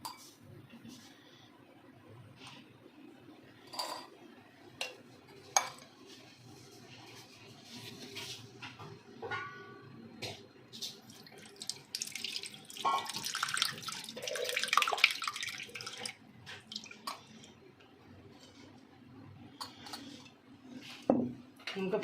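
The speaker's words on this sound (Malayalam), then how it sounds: "ഇനി നമ്മൾ വേറൊരു പാത്രത്തിലേക്ക് അരിച്ചെടുക്കാൻ പോവാണ്." Banana wine strained from one vessel into another, with liquid pouring and splashing intermittently alongside occasional clinks of a utensil against the container, moderately close and mostly alone.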